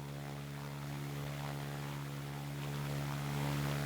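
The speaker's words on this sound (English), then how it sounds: "I can hear the Merlin engine" Merlin engine of a Hurricane fighter plane in the WW2 aerodrome-building video game Ground of Aces, a steady droning hum with a low pitched tone that swells slightly louder near the end, with no talk.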